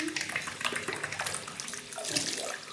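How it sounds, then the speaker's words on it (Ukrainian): Tap water runs steadily from a faucet into a container being filled, a continuous close splashing rush that holds for the whole stretch. "вот включаем водичку. Водичка включена. Наливаем водичку."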